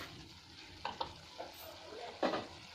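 Sautéed potatoes stirred in a pan, a quiet sizzle with a few distinct scraping stir strokes, a pair of close clicks early and a louder scrape near the end.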